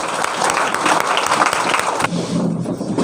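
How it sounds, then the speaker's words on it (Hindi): An audience at a seminar rises for a standing ovation, loud, dense clapping from a packed hall that swells steadily and then thins slightly near the end. "खड़े होकर के जोरदार तालियां।"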